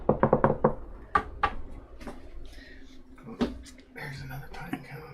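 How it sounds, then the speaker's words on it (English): Knuckles rap on wood in a burst of quick knocks, then scattered sharper taps follow while people talk quietly nearby in a wood-burning workspace. "Knock on wood."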